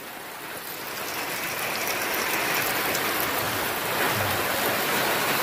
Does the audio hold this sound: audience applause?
no